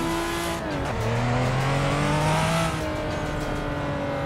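Engine revving and tire squeal from a car drifting in Assetto Corsa on a GTA 5 map, a loud, sustained engine whine with pitch shifts as gears change, no talk.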